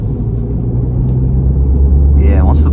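A 2024 Mini Cooper S Hardtop accelerates on the highway at one-third throttle, a steady low engine rumble building slightly in loudness from inside the cabin, with a voice talking over the end.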